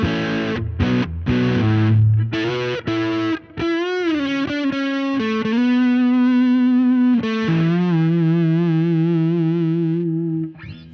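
Squier Paranormal Series Super Sonic 2021 electric guitar played through a compressor and an Awful Waffle distortion pedal, with loud distorted chords, sustained warbling notes with vibrato, and brief pauses between phrases.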